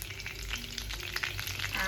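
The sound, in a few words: curry leaves frying in hot oil with cumin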